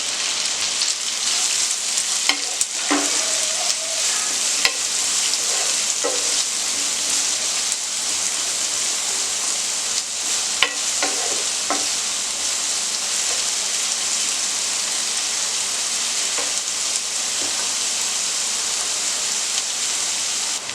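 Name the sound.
chopped onions frying in a pan for gobi manchurian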